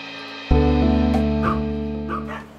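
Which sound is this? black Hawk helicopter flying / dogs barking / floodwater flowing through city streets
dogs barking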